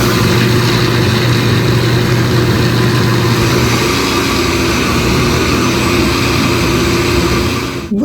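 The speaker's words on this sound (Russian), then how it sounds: "Все взбиваем." Electric mixer whisking a strawberry mousse of soft cream cheese, strawberries and cold milk, a loud steady motor whir running continuously for about eight seconds with no talking.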